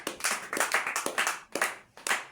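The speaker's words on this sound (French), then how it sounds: "On acclame pour Jésus. Acclame pour le roi des rois." Church congregation clapping in unison, loud rhythmic claps in quick bursts about twice a second, close and unaccompanied by talk.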